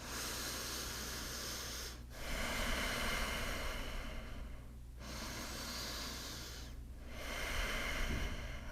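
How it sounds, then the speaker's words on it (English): Deep breathing during a yoga flow: about three long, slow, airy breaths, close and steady, each separated by a brief pause, with no speech. "Take about 2 more deep breaths."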